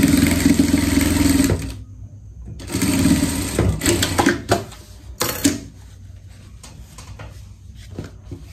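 A sewing machine stitches together the top and bottom fabric pieces of a pet dress in two loud, steady bursts of running motor, with short pauses and softer clicks of fabric handling between them.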